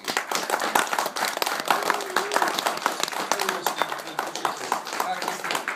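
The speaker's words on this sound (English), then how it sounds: "Round of applause, please." An audience at a synthesizer presentation applauds the guest, a steady wash of clapping from many hands in a hall, with voices talking underneath throughout.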